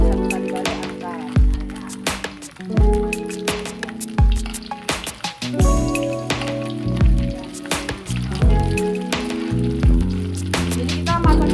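Stuffed tofu fries in hot oil with a close, busy sizzle and popping, while music with regular beats plays over it.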